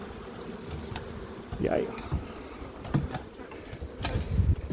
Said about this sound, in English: so now all the flying bees will come back to her.